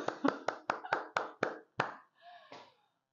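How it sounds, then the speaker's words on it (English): A man claps his own hands, about eight sharp close claps in a quick uneven rhythm, then a couple of softer ones, alone without talk. "Let me clap for myself."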